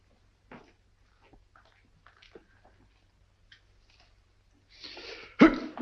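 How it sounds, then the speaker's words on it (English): After a few faint rustles and small movements, a single loud, sharp sneeze bursts out near the end of a scene from the 1942 film Sherlock Holmes and the Voice of Terror. "Gesundheit."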